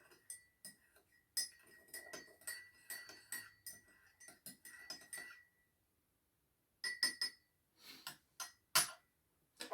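A spoon stirs half a teaspoon of sugar into a small cup of light-roast coffee, making quick, light clinks and ticks against the cup in two bursts with a brief pause between them.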